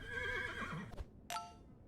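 A cartoonish horse neigh from the Super Auto Pets video game whinnies with a wavering pitch for about a second, then a short bright chime-like game sound follows, all fairly loud with no talking.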